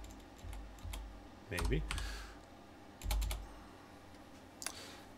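Typing on a computer keyboard produces a few scattered, close clicks and short key bursts, with a spoken word heard briefly among them.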